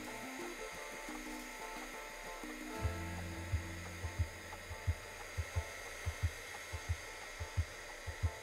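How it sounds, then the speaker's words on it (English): A heat gun blows steadily on embossing powder on craft foam, a continuous airy whir with a low hum, joined partway by a regular series of soft ticking clicks, close and moderate. "embossing powder with the heat gun."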